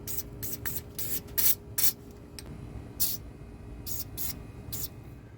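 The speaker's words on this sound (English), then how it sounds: "just spray some kind of lubricant on there" Short bursts of lubricant sprayed from an aerosol can onto shock absorber bolts in a big rig truck's fender well, roughly eight quick close hisses at uneven intervals over a low background hum.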